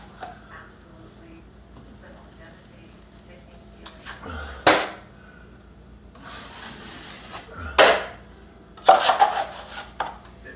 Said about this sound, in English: the 5-minute Durabond goes on smooth, just like regular drywall mud